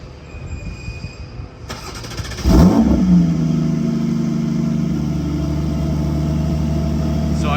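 A Porsche GT2 RS with a non-silenced, valved exhaust fires up: a quiet lead-in, a sharp startup bark and rev flare, then a loud, steady idle rumble close by.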